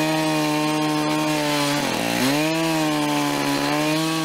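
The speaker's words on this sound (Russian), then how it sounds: "Лед пилят, брызги летят." A chainsaw cuts through river ice to open a baptismal bathing hole at a sports club's water base, droning loud and steady throughout with a brief dip in pitch as the engine bogs, then recovering.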